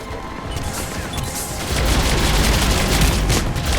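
Dense rapid gunfire and booming cannon blasts in Mass Effect 3's Omega DLC, growing louder and heavier halfway through into a continuous barrage.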